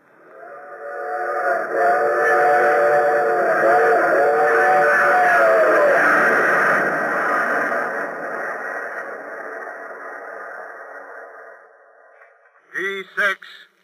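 A train sound effect in a 1942 spy radio drama, heard as a loud, sustained rumble with chugging and whistle-like tones that builds and slowly fades, then a couple of brief sharp tones at the end, with no talking.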